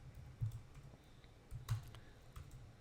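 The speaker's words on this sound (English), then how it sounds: "if I can type here, array.length I++." Code being typed on a computer keyboard: faint, close key clicks come in short irregular bursts with brief pauses between them, and no one speaks.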